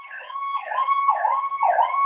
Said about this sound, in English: there's a siren party